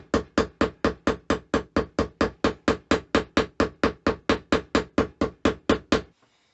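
A hammer beats steel knife blade metal from the bottom side to curl the top, giving about twenty-five sharp, evenly spaced strikes in a fast steady rhythm, loud and close, then stopping abruptly.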